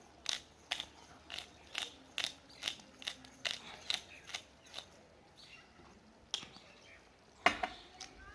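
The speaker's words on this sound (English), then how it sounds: "we will season it with the freshly grated pepper, a lot of it actually" A pepper mill cracks fresh black pepper over a creamy Alfredo pasta dish, giving a steady run of a dozen or so short, crisp grinding clicks at an even rhythm, fairly faint in a quiet kitchen with a few louder ticks near the end.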